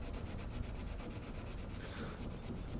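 Hand sanding of a knife blade with abrasive sanding strips gives a continuous, close, raspy rubbing with quick back-and-forth strokes and no voices.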